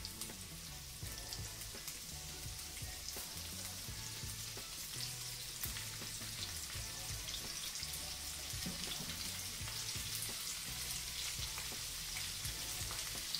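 Onion cooking in a hot pan for mini beef Wellington, giving a faint, continuous sizzle with light crackles and soft stirring knocks.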